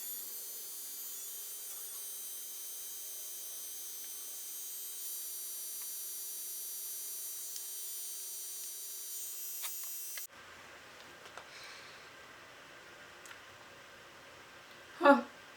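A Juvalips lip plumper suction device runs its cycle with a steady, close electric hum for about ten seconds, then cuts off into quiet room noise that ends in a brief louder burst.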